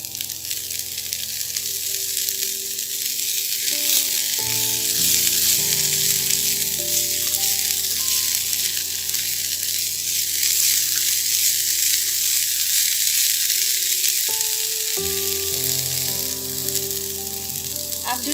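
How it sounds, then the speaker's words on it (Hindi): Vegetables for a diet salad fry lightly in a pan with a loud, continuous sizzle that holds steady throughout, over a background of sustained musical tones. "अब हम इसको हल्का सा फ्राई करेंगे, ज़्यादा फ्राई नहीं करना, बस 1 मिनट के इसको फ्राई करना"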